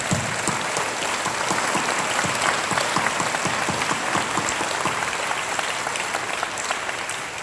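A worship congregation at a Christian businessmen's convention in Gyeongju claps together in thick, sustained applause, many hands beating evenly and continuously throughout.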